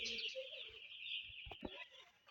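High, continuous peeping of about 1,600 chicks fills a poultry shed, with a few soft clucks and thumps underneath.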